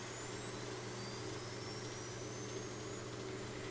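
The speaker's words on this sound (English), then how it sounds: "Let's start with the left engine. You will hear it crank up right away." A steady, droning engine hum with a high whine slowly rising over it, like a large jet spooling up, continuous and moderately loud: the left engine of an F-4 Phantom starting up in Microsoft Flight Simulator.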